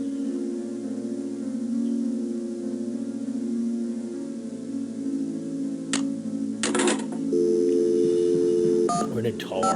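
Telephone keypad tones beep in a quick burst of dialing within the Nancy Drew game Secrets Can Kill, set over steady background music, followed by a brief ringing pattern.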